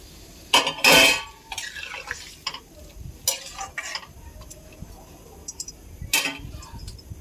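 Metal lid set onto a cooking pot of potol and prawn curry in a home kitchen, a couple of sharp clinks and clatters early, followed by lighter scattered taps and rattles.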